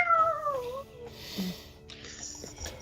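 A cat gives a single clear meow that slides downward in pitch, followed by a few soft, scattered noises in a quiet room.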